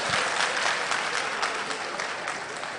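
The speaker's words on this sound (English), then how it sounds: "You are clapping." Steady, loud applause from an audience of party delegates at a political meeting in Sissala, a dense continuous clapping that fills the whole stretch without a break.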